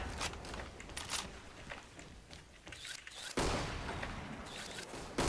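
Gunfire in a shooting video game, scattered sharp shots and bursts at uneven intervals, fairly faint, with a louder sustained volley toward the end.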